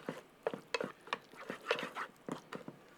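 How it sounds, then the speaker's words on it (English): Raspberry chipotle sauce is mixed on a griddle, with a steady run of quick scraping stir strokes over a light sizzle, close by and fairly quiet, with no voices. "Let's kind of give everything a good mix."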